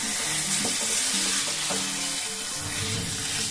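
Prawn masala being sautéed in a pan for a South Indian-style dish, with a continuous moderate sizzle and soft stirring scrapes throughout, close and steady with no talking.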